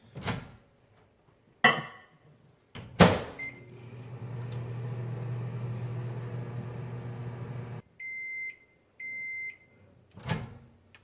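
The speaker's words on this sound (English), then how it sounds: "Let me put it up here in the microwave. Start off at 30 seconds." A few clicks and a door thud, then a microwave hums steadily for several seconds while melting chocolate, then stops, followed by three short electronic beeps and another clunk.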